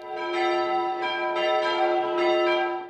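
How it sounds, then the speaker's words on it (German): Church bells peal at the Pentecost gathering in the former village of Gruorn, in the old Münsingen military training area. The ringing is loud, sustained and overlapping, with repeated strikes swelling over about three seconds and no voices. "die Glocken zu läuten."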